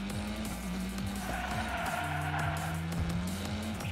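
Hot Wheels Unleashed racing game: supercar engine whine shifting through gears with rising and dropping pitch, over continuous tire and race noise, steady and loud with no talk.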